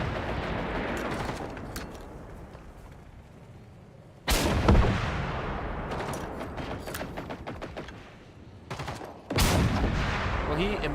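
Gunfire in the shooter game Generation Zero: two heavy, booming blasts a few seconds apart, each followed by a long rumbling tail over a continuous background din, with faint talk in places.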